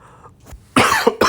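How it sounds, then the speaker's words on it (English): A single person gives a sharp, loud, close cough burst, followed by a quick second cough. A small throat sound comes just before them. "Still a residual cough here and there."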